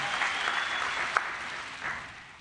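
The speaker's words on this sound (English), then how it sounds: "Bye, yes, applause, of course." Applause from the audience at a livestreamed pitch event, a moderate crowd of clapping hands that gradually thins and fades, with one sharper clap standing out partway through.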